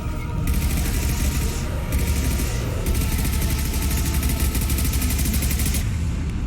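Assault rifle fire in Mass Effect 2: a dense, loud, continuous roar of rapid shots and booming impacts runs through the whole stretch without pause, with no clear talking.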